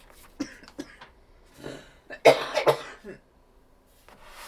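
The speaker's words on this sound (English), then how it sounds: "I'm getting where I need to cough" A few short, close coughs and throat-clearing bursts, with one louder cluster in the middle, separated by quiet pauses.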